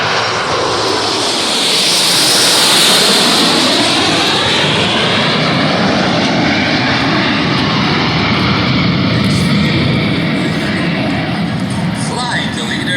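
A fixed-wing aircraft at the Duluth Air & Aviation Expo air show roars loudly and continuously overhead, its engine swelling and then holding steady with a sweeping pass, with faint crowd noise underneath.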